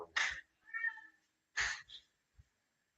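A house cat meows twice in short, clear calls, close by in a quiet room, with a faint small noise afterward.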